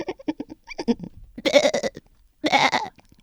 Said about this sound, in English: Those are the goats playing in the house.